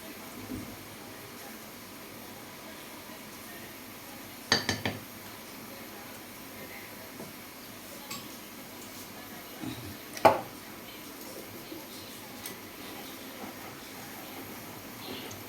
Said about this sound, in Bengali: আর দিচ্ছি জোয়ান এটা একসঙ্গে এখন মিশিয়ে নেবো